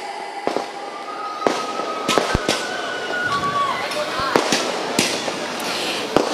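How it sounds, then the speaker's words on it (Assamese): Fireworks go off at the 2024 Latasil Bihu queen contest as the winner is welcomed onto the stage: a series of sharp, loud bangs and crackles at irregular intervals, with a voice talking underneath. "সেইফালে আমাৰ জয়শেখৰ দাসে আতচবাজীৰে বিহু সম্ৰাজ্ঞীগৰাকীক মঞ্চলৈ আদৰিছে।"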